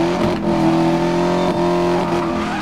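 Bac Mono engine revving in Need for Speed Most Wanted (2012), a steady throaty drone that holds and rises slightly, loud and close, with no talk over it.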